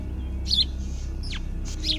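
A cartoon bird chirps in short bright tweets, with a few separate calls and a quick downward whistle, heard alone over a soft low background rumble.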